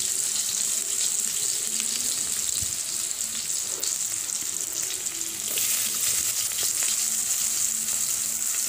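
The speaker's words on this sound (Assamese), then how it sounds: "এতিয়া মই পিঁয়াজখিনি কেৰাহীত দি লওঁ।" Chopped onions hitting hot oil in a wok, a loud continuous sizzle and hiss with light stirring scrapes, no voices.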